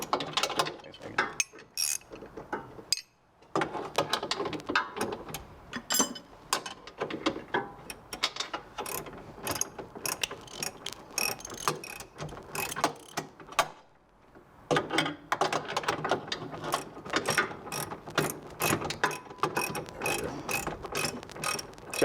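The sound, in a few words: ratchet loosening a bolt before dropping a car subframe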